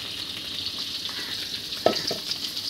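Pabda fish curry with tomatoes bubbles and sizzles in oil, a steady close frying hiss with a single sharp clack of a utensil partway through, no voices.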